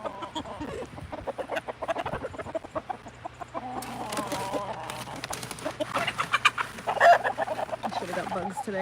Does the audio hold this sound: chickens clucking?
yes